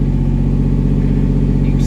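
A 1999 Lamborghini Diablo Roadster engine idles close by with a loud, steady, deep rumble and a pulsing mechanical rhythm, settling at low revs with no throttle applied.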